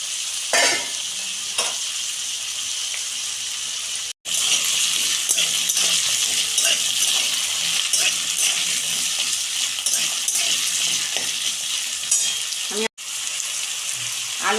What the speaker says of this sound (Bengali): আলুটাকে আমি একটু ভেজে নেব